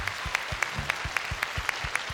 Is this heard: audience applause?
yes